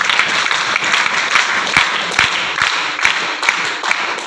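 An audience at a direct-selling seminar claps together in sustained, even applause, a crowd of hands patting steadily at close range with no speech over it.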